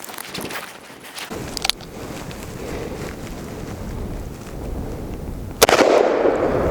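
.44 Magnum gunshots ring out outdoors: two sharp, loud cracks several seconds apart, with a fainter report at the start, over steady wind and ambient rustle.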